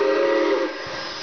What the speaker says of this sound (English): That was the injector.